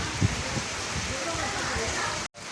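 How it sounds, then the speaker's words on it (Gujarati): Steady rain falling outdoors, a dense continuous hiss that runs without letup and breaks off abruptly for a moment near the end. "તો ગાઈસ વરસાદ મસ્ત ચાલુ થઈ ગયો છે"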